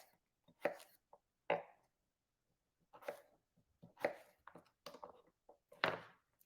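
Radishes being sliced with a knife, a series of crisp, separate chopping thunks in an uneven rhythm, close and clear against near silence, with no talk.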